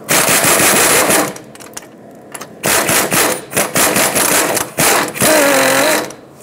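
A loud power tool runs close by in several rattling bursts with short pauses between them. It is driving an 18 mm socket to remove a sway bar link nut on a 2012-2017 Hyundai Accent, and no one speaks.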